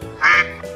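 A single duck quack rings out, short, loud and close, with nothing else around it.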